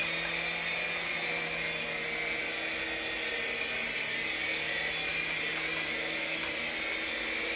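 A small remote control helicopter whirs steadily with a high, buzzing motor and rotor drone, fairly close and constant throughout with no talking.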